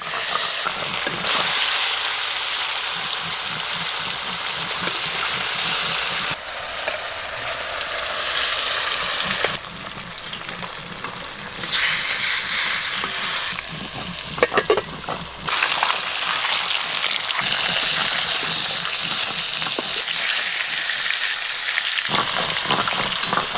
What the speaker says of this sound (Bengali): আমি মাছ ভেজে নেব।